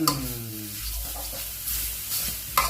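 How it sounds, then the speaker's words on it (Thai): Pork stirs and sizzles in a dry wok with no oil, giving a soft, close frying crackle with scraping stir strokes and a faint tonal hum at the start. "หมูของเราใส่ลงไปเลย แล้วก็คน"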